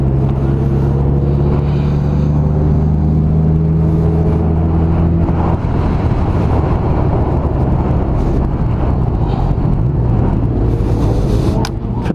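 A motorcycle engine runs with a steady droning hum and a gradual pitch shift over the first half, then gives way to broader, rougher road noise. Someone speaks briefly under it.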